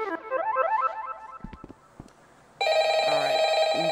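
A telephone rings in Five Nights at Freddy's VR, a repeating electronic trill, followed by a few clunks and then a loud sustained synthetic tone that fills the rest.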